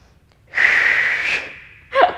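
A single long, breathy exhale during a Pilates arm exercise, close and fairly loud, followed by a short sharp intake of breath.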